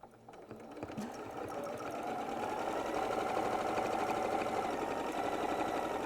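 A sewing machine stitches branches onto a quilt with a fast, steady mechanical whirr. It starts with a few clicks, then settles into a continuous hum up close, with no talking.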